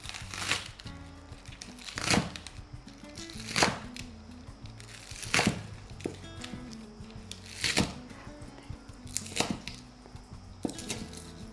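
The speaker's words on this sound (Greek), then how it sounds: "να ετοιμάσουμε και τα φρέσκα κρεμμυδάκια μας. Κόβω, όχι πολύ ψηλά, μεγάλα κομμάτια" A knife chops fresh spring onions into large pieces on a board in a home kitchen, giving sharp, separate cuts every second or two that stand out against soft crinkling handling noise.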